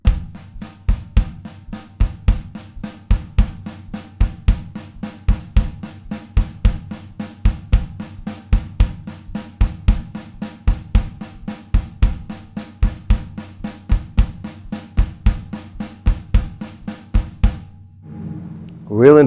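A drum kit playing a samba exercise, steady sixteenth notes on the hi-hat over a repeating kick drum, crisp and even for the whole stretch with a loud close sound, then a short pause at the end.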